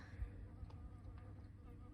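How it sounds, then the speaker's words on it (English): Leaf cutter bees working on a tree, giving a faint, low, steady buzzing hum that stays close and continuous through the short moment with no voices. "So this is what's been fucking up my tree, you guys. Leaf cutter bees."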